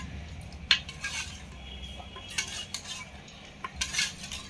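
Mung dal being stirred in a metal pot, a spoon scraping and clinking against the sides in irregular bursts over a low steady background hum, quiet and close with no talking.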